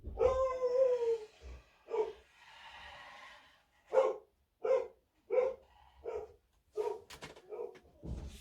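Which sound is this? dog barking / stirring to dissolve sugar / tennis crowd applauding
dog barking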